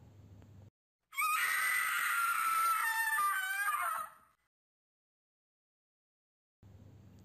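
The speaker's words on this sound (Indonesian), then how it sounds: "Teriak Putri tiba-tiba dalam perjalanan kami menuju pos 2" A woman's loud, sustained scream in an Indonesian audio horror story about a possession on a mountain hike, lasting about three seconds before cutting off, with brief low background sound before and after and silence in between.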